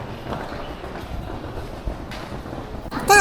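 An airport monorail shuttle train runs steadily with a low rumble and faint clatter, then a brighter mechanical squeal rises near the end.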